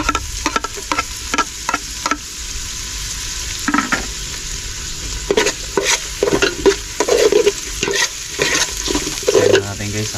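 Onion and garlic fry in a pan, a loud continuous sizzle broken by repeated scraping stirs and clinks of utensil against metal, with no talking.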